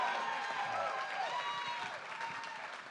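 A town hall meeting audience applauds, a fairly quiet wash of many hands clapping at a distance that runs steadily throughout and fades slightly toward the end, with faint voices mixed in.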